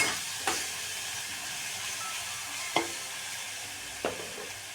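Roasted cluster beans sautéed in a pan, giving a steady soft sizzle broken by three sharper scraping strokes of a spatula, close by with no talking.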